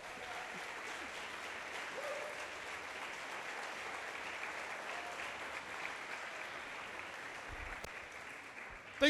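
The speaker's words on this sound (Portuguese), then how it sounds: "Então dá um aplauso a Jesus." Church congregation clapping during a Portuguese-language evangelical service, steady sustained applause at moderate distance that continues evenly and ends with a sharp thump.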